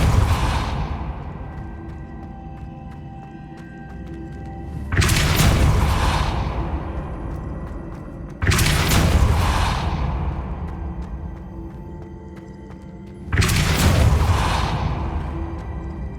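The Depulso spell is cast three times in Hogwarts Legacy, each cast a sudden loud whooshing blast that rings and decays over several seconds, spaced a few seconds apart over a low ambient background.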